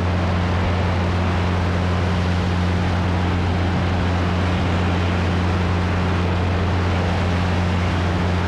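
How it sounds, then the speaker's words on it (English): A Cessna Cardinal 177 RG climbs out after take-off with its landing gear retracting, heard as a steady, loud cockpit drone of engine and propeller with strong low hum tones, unbroken and continuous. "Gear's coming up. Gear motor's on."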